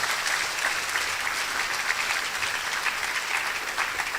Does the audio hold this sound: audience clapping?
yes